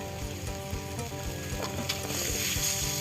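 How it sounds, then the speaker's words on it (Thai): Crocodile meat and tree basil leaves stir-fry in a pan, giving a steady close sizzle with light scraping and clinking of a utensil throughout. No one talks. "ค่อยๆผัดไปจนกว่า เนื้อจระเข้ของเราจะสุก"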